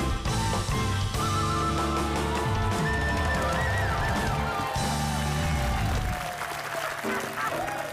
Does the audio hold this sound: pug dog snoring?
no